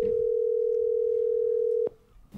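A steady telephone dial tone hums loudly and evenly on a call line, then cuts off abruptly with a click, followed by faint line noise.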